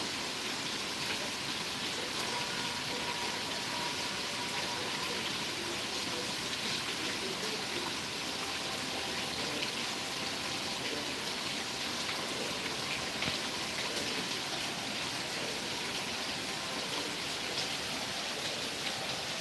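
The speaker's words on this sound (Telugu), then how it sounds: "మన శ్రీశైలంలో అయితే వర్షం అయితే పడుతుంది" Steady rain pours down in Srisailam, a dense continuous hiss of drops on surfaces, even and unbroken throughout with no voices.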